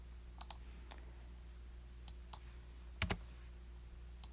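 Quiet, sharp computer mouse clicks from someone working in an online flooring layout planner, arriving as sparse single and double clicks with a louder pair near the end, over a low background hum.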